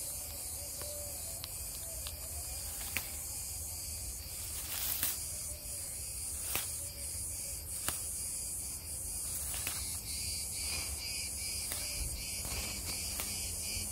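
Cicadas drone steadily through a summer garden in Izmir, a loud continuous high-pitched hiss with faint clicks and rustles on top, no voices heard.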